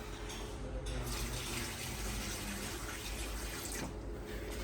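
Water being poured over potted plants at home, a steady splashing, trickling flow that runs continuously and evenly close by, with no talk over it.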